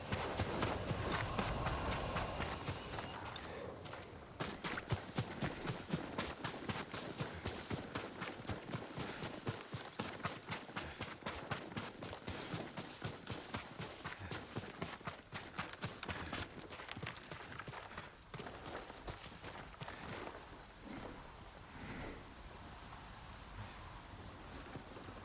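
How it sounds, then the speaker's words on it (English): Horse hooves clip-clop in the video game Ghost of Tsushima. A steady run of close, rhythmic hoofbeats goes on for most of the stretch, then slows and fades toward the end under faint ambient background. "Yuriko's horse. She can't be far."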